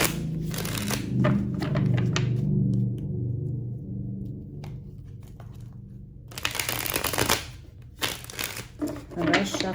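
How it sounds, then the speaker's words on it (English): Papery riffling and crinkling of tarot cards being shuffled close by, in bursts separated by a quieter stretch, with talking underneath. "I'm going to shuffle and meditate on you the entire time."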